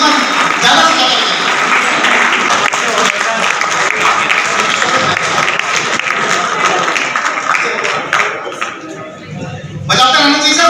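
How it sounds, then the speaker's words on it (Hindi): Loud audience clapping fills a hall at a business seminar in Delhi, dense and continuous, dipping briefly near the end before surging again. "ताली बजाइए जितना ज़्यादा से ज़्यादा बजाइए।"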